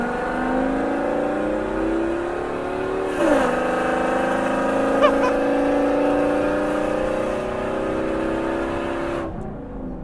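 A straight-piped V10 Ford Excursion roars steadily at high revs, its deep raspy exhaust note climbing as it accelerates hard at full throttle, loud and close.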